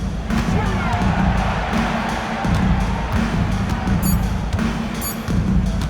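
An arena crowd roars steadily in NBA 2K25 basketball, a broad sustained cheer beneath commentary, punctuated by squeaking sneakers and thumping ball bounces.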